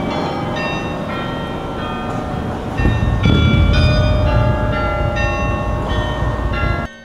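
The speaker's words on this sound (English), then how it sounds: "I heard the bells." Church bells ring out a melody in a clear sequence of pitched strikes, loud and close, with a low rumble swelling beneath partway through and the ringing cutting off abruptly at the end.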